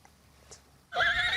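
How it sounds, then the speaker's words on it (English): A horse neighs loudly and close after a near-silent lead-in, the whinny rising abruptly and holding strong to the end, with no voices present. "But now a horse is ministering to him."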